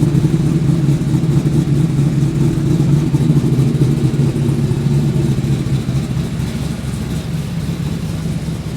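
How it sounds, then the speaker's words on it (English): Car engine with a lumpy performance cam and four centre-exit exhaust pipes, idling and revving in a loud, steady, close throaty rumble with no talk over it. "You can hear that cam through the exhaust note."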